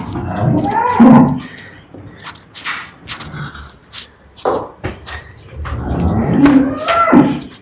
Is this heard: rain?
no